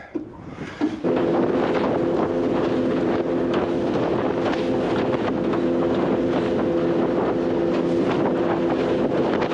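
Wind gusts roar steadily across the microphone aboard a Stabicraft fishing boat out squid fishing, a loud continuous rush with a low engine-like drone running beneath it after a brief quieter start.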